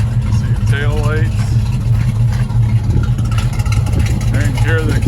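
A 1974 Chevrolet Malibu's engine runs with a steady low exhaust rumble throughout, under someone talking close by.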